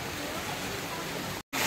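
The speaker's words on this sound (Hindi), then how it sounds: "अभी ज़ोर शोर से बारिश हो रही है" Dense, steady hiss of heavy rain pouring down on a market street, loud and continuous, briefly cutting out near the end before resuming.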